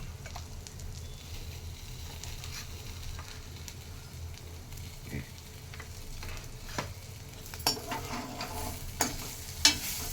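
Onion fries in oil for a tempering with a soft, continuous sizzle, joined later by louder scattered taps and clatters of a utensil against the pan.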